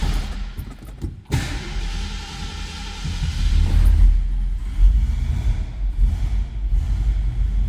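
A 1966 Ford Mustang coupe's 289 V8 starts cold: a short click and a burst of cranking, then the engine catches and settles into a loud, rough, lumpy idle close by.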